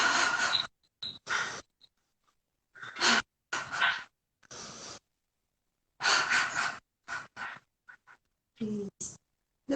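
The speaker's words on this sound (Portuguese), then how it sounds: "A gente vai fazer uma inspiraçãozinha aqui, segurando o tornozelo, inspirando e só respirando, libertando a respiração." Guided inhales and exhales during a singing-yoga session, heard as a series of breathy, airy rushes, some long and some short, separated by silent pauses and close to the microphone.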